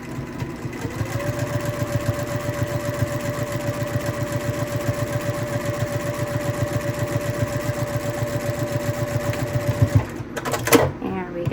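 A sewing machine stitches the folded lining of a quilted zipper pouch closed with a close, steady, fast mechanical whir that runs for about ten seconds and then stops, followed by a few handling clicks.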